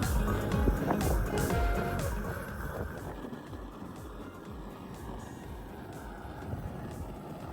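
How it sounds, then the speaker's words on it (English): Handheld burner heating a homemade gold and silver melting furnace, a steady broadband roar and rush that is loudest at the start, then eases slightly and holds as a constant close blast with no talking. "I'm using my handheld burner to heat up the furnace to help accelerate the drying"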